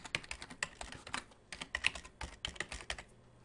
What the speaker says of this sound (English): type in your mail address here.